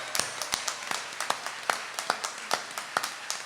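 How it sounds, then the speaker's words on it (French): A small group of people at a Canadian folk music evening claps, sparse, distinct hand claps landing in an uneven rhythm, close by and moderately loud. "On les applaudit très fort."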